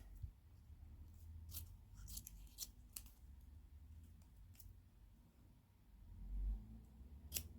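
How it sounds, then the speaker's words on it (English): Small embroidery scissors snipping while furniture for a vintage Lundby dolls house is updated, a few quiet, sharp clicks spaced irregularly over a soft background hum, close to the microphone. "I can use my tiny scissors for that. So they are my embroidery scissors,"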